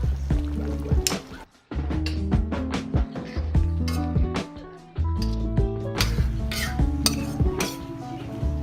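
Kare-kare stew with vegetables being stirred in a pot, with repeated metallic clinks and scrapes of a utensil against the pot in an uneven rhythm, close and clear.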